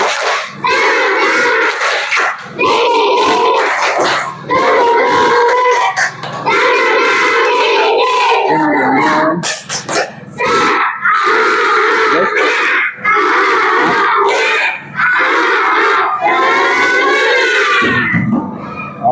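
A school class chants and claps in unison the 'tepuk semangat' clapping chant in a classroom, loud group voices with rhythmic clapping running almost continuously, with brief pauses between phrases.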